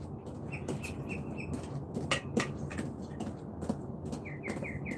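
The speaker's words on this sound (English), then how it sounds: "And the birds are coming, folks." Birds chirping outdoors, short repeated tweets in small bursts of three or four over a steady background hiss, moderately distant and fairly faint, with no talking.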